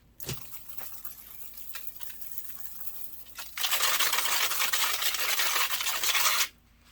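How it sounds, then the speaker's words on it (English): Water is poured onto worm farm bedding in a plastic tote, starting as a light trickle and patter, then building into a steady, loud rushing splash for about three seconds before stopping abruptly. No one speaks. "Let me add a little water on it to get this bedding a little wet."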